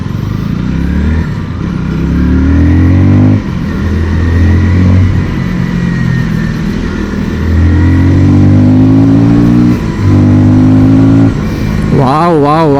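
A 2025 KTM Duke 160 motorcycle accelerates hard, its engine note climbing and dropping repeatedly through several gear changes, loud and close with steady wind rush; a rider seems to talk over it.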